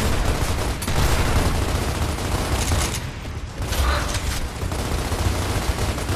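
Dense, continuous gunfire with heavy booming fills the Gears of War Ultimate Edition campaign on Insane difficulty. It is loud and sustained throughout, with only a brief dip in intensity midway.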